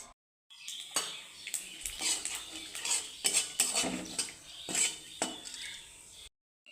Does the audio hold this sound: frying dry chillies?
yes